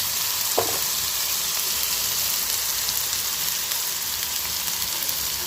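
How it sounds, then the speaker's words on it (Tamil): Green plantain pieces frying in an oiled pan for a Tamil-style plantain poriyal, a steady close sizzle with soft stirring scrapes throughout and no talk. "இப்போ வாழைக்காயை சேர்த்து நல்லா மிக்ஸ் பண்ணிக்கலாம்."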